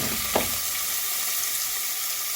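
Chicken pieces added to a hot pan for chicken soup sizzle and fry steadily, a dense broadband crackle throughout with a brief louder burst near the start as they hit the oil.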